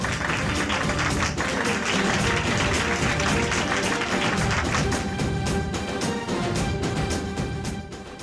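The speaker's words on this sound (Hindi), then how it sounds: "तो तालियों से स्वागत कीजिए जीत और कृष्णा के लिए।" Applause and scattered clapping welcome the dancers Jeet and Krishna onto the stage at a dance performance. The crowd claps steadily and loudly for about eight seconds, then the applause fades slightly at the end.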